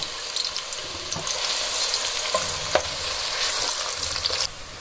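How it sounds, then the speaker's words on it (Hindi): Chopped onions fry in hot oil with a continuous close sizzle and crackle, broken by a few soft stirring scrapes, before the hissing drops off near the end. "अच्छा ये ऑयल यहाँ पे गर्म हो चुका है तो इसमें हम ये प्याज शामिल कर देंगे"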